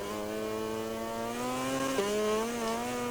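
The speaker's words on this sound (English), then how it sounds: "I can hear his engine in the background." A rival racing motorbike in MotoGP 20 holds a steady, whining engine drone, then the pitch dips briefly and climbs again. It is faint and sounds alone.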